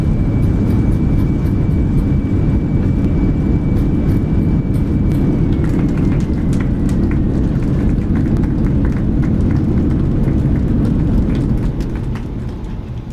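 Airbus A320neo landing in Microsoft Flight Simulator, a loud steady rumble of engines and rollout roar filling the whole span, with a faint whine fading partway through and the noise easing at the end, no talking.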